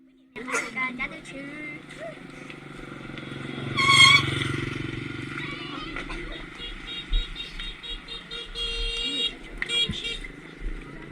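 A Honda XR motorcycle rides along a road toward Hà Giang town in northern Vietnam, its engine droning steadily throughout with wind noise, a brief louder surge and clatter near the start, and faint chirps above.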